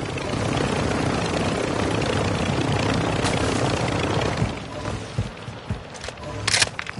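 Helicopter in the video game Warzone 2.0, a steady rotor and engine drone filling the first four and a half seconds before fading under scattered gunfire and game effects.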